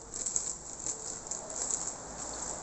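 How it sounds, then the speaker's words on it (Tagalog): Rain pattering steadily on a surface, a dense fine crackle that swells slightly in places, close and continuous with no voices. "So ayan na nga, lumalakas na yung ulan."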